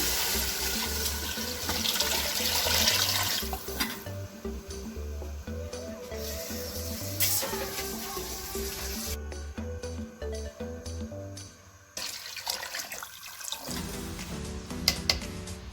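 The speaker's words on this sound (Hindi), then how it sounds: "अब मैं इसमें ऐड करती हूँ तकरीबन 2 जग पानी" Water pouring steadily from a jug into a metal pressure cooker, a continuous splashing gush that changes pitch as it fills, then stops near the end.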